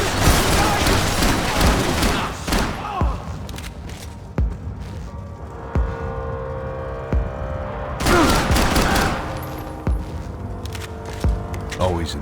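Gunfire in the game Max Payne 3: loud bursts of rapid shots and sharp single cracks, with a lull of spaced shots in the middle before another heavy volley, alongside shouted voices.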